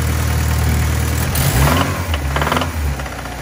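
A car engine with a spun rod bearing revs close up, loud and continuous, its rumbling tone climbing and falling with RPM and carrying a rough knocking beneath it.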